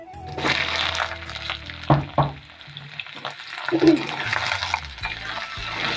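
Potato and poppy seed masala frying in a home kitchen pan, a steady sizzle with a few stirring scrapes and clinks, while someone talks over it.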